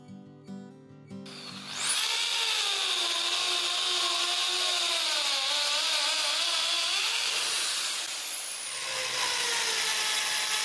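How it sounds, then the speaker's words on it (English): Power drill boring into a concrete wall at home, a loud sustained whine that starts after a short lead-in, holds steady for several seconds with slight pitch wavering, then winds down. "Once I'm happy with the layout, I decided to drill."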